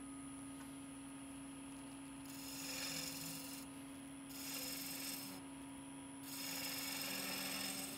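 A skew chisel shaving a bead into spinning wood on a lathe for a three-legged stool, steady humming lathe drone with three swelling passes of hissing cutting, close and continuous with no talk.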